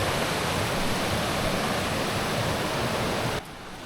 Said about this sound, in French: Non c'est pas une cascade, c'est des rapides.